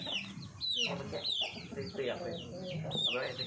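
Fighting roosters at a small farm cluck in a run of short, overlapping calls, moderately faint and close, with a hint of crowing and possible low voices mixed in.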